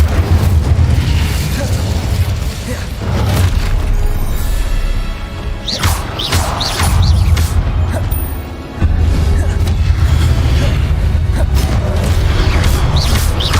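Confringo and Incendio spells exploding in a Hogwarts video game, a heavy, continuous rumble of booms and fiery bursts with a short dip midway, loud and near, with a voice faintly present.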